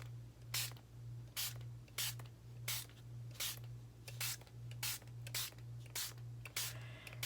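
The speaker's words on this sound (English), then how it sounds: "This particular spray bottle tends to splatter, but I like that look, so that's why I use this bottle." A splattering spray bottle spritzes coffee water onto paper envelopes in a steady rhythm of about a dozen short hissing bursts, close and fairly loud, over a low constant hum.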